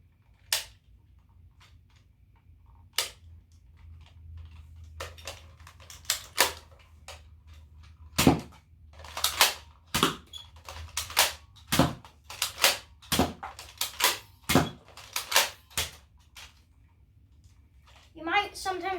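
Nerf N-Strike toy blaster, a cylinder-fed model, cocked and fired repeatedly, giving a run of sharp plastic clacks and snaps at an irregular rhythm, close by over a low hum.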